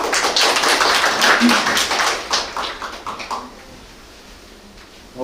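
Audience applause welcoming a speaker at a forum in Sejong, dense clapping for about three seconds that thins out and fades into near quiet.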